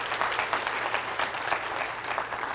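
Worshippers in a church congregation clap their hands in praise, a steady mid-distance applause with uneven rhythmic peaks throughout.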